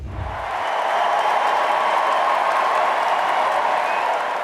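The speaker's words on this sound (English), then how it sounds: "This historic moment in 2016 met with thunderous applause in Philadelphia." Thunderous applause swells from a huge crowd at the 2016 political convention in Philadelphia, rising within the first half second and then holding as a dense, steady roar of clapping with no voices on top.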